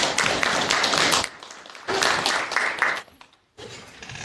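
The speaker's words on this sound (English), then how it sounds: "Everybody give your commander a round of applause." A high school class applauding their class commander, dense clapping from a room full of students in two loud bursts with a short pause between, then fading to near silence before a final smattering.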